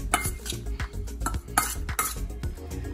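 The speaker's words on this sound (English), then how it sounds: "I'm going to use a spoon and I'm going to mix the seasoning with the shrimp all together" A metal spoon clinks and scrapes against a bowl while mixing red pepper seasoning into raw shrimp, giving quick, uneven close taps and rattles.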